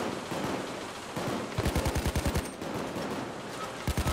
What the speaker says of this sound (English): I'm being shot at on this roof.